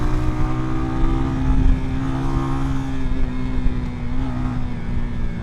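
A small motorcycle engine runs loud and close, holding a steady buzzing drone with slight surges in revs throughout, and no other sounds stand out.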